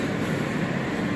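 A brand new Second Avenue subway train rolls along on its opening day, making a steady low rumble and rattle from the inside of the car, constant and fairly loud, with no talk.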